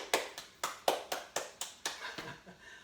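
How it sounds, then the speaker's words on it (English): A round of applause at the end of a workout exercise, roughly ten sharp, evenly spaced hand claps that grow slightly softer toward the end, with no talking. "Give yourself a round of applause."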